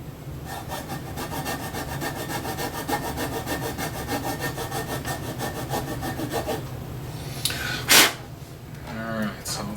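A file rasps back and forth in the nut slot of a 1970s Univox Les Paul copy guitar, steady close strokes in a regular rhythm, followed by a brief sharp burst and a faint pluck near the end.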